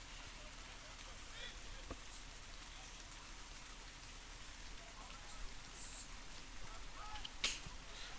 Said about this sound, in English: Rain peppering down here in Vaughan.